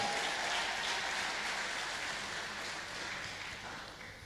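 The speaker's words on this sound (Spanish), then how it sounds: "Fuerte el aplauso a mi familia" A congregation at a church service applauds the pastor's visiting family, a dense, steady wash of clapping hands that holds evenly for several seconds with no voices over it.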